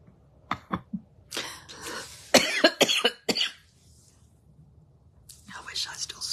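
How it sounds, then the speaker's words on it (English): A person coughs repeatedly indoors at home, a few short sharp coughs followed by a burst of harsher hacking, then quiet whispered talk. "I'm coughing like I smoke."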